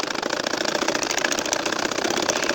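Sewing machine running steadily while stitching a nakshi kantha quilt, a fast, even mechanical whirr with rapid rhythmic ticking that stays close and moderately loud throughout, with no talking.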